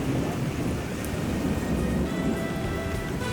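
Severe rainstorm over Lake Atitlan near Panajachel, Guatemala: dense, loud rain hissing on surfaces with a deep rolling rumble of thunder underneath, continuous throughout with no voices.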